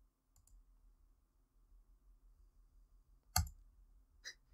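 A computer mouse click pressing play in the Unity editor: a single sharp, close click stands out over a quiet background, followed by a fainter second click.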